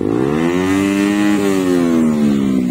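A KTM Duke 390 motorcycle engine roars at full throttle, loud and close, holding a steady high rev with a slight fall in pitch.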